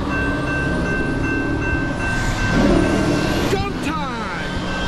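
Norfolk Southern empty auto rack freight train rolling past on track one, a steady loud rumble with hissing air brakes and a brief horn sounding near the end, while someone talks over it.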